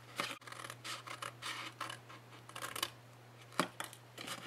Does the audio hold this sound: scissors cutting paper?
yes